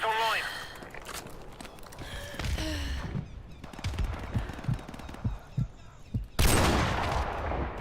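Heavy .50 cal gunfire and other game combat sounds from Call of Duty 4 Remastered come in loud bursts and sharp impacts, with a voice talking over part of it.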